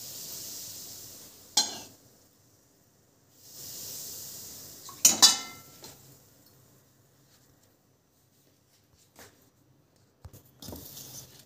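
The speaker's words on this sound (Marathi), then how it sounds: "हे सर्व साहित्य मिक्स करून घेऊ." Wheat flour being mixed with ajwain, salt and hot oil in a bowl: sparse, quiet clinks and scrapes of a utensil, with a couple of short hissing bursts between long silent gaps.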